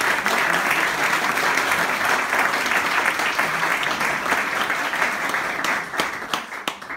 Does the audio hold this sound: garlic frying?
no